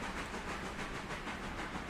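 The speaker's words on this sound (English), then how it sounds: "There she goes, cruising on by. Big loco moving big trains." A big Berkshire steam locomotive in the train game Railroader cruises past hauling a long train, a steady rushing hiss and rumble of wheels with faint rhythmic pulses, continuous and moderately close, no voices.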